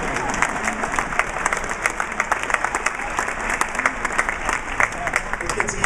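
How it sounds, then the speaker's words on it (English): An audience at an awards dinner gives a sustained round of applause, dense overlapping clapping that stays loud and even throughout, with a faint murmur of voices beneath. "we will give a once removed round of applause"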